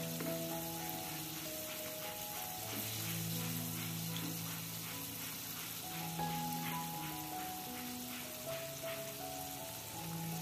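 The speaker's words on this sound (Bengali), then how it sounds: "এই পাশটাও আমি যতক্ষণ বাদামি কালার না হচ্ছে ততক্ষণ ভেজে নিচ্ছি।" Chicken pakoda frying in oil on a medium flame, giving a steady, close crackling sizzle throughout with soft music playing underneath.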